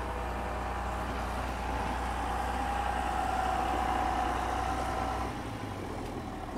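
A tractor engine rumbles steadily nearby with a sustained low drone and a faint whine on top, alone without voices, then drops away and quietens near the end.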